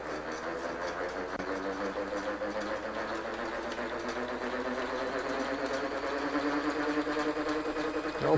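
An electric motor runs at full speed on a regenerative braking demo rig. It gives a steady, mid-loud mechanical whir with a fast, even pulsing that slowly grows louder.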